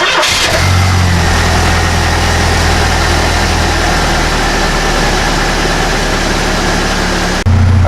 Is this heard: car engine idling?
yes